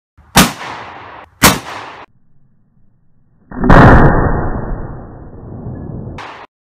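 A shotgun firing a homemade slug made of diabetic test strips at close range into wood, with two sharp, loud blasts followed by a longer burst of noise.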